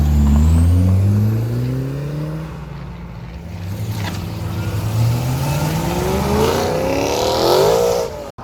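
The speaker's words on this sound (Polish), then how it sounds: "A green Porsche." A green Porsche passes at a breakfast car meet, its engine rising as it approaches, droning loudly nearby, then revving away with a climbing whine toward the end.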